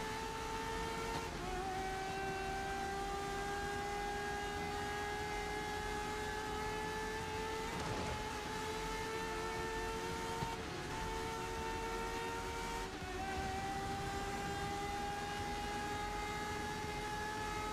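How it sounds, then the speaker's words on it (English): A race car engine in the racing video game GRID Legends revs high and holds a steady, loud, whining tone, with brief dips in pitch that sound like gear shifts. No one speaks. "Why is he revving it so high? He doesn't need to rev it that high."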